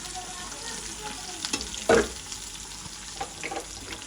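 Onion, garlic and green chili fry in oil with a steady close sizzle, broken by a few louder scrapes and clatters of stirring, including one sharp knock near the middle.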